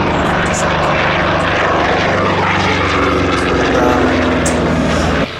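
A P-51 Mustang propeller aircraft taking off at an airshow, its engine a loud, steady drone heard from a distance that stays strong throughout.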